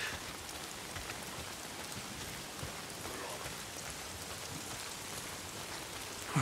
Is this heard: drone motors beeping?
no